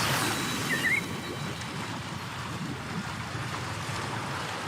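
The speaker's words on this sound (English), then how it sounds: "That's a really big waterfall." Broad steady rush of falling water from a huge waterfall in the video game Wuthering Waves, a constant near roar filling the whole clip, with a brief faint chirp near the start.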